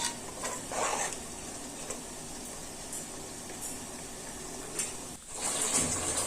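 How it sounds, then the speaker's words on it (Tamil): Steady bubbling from a pot of chicken boiling on the stove for biryani, a dense continuous simmer with occasional louder pops, heard close up with no talking. "இப்போ இது கொஞ்ச நேரம் நல்லா கொதிக்கட்டும்."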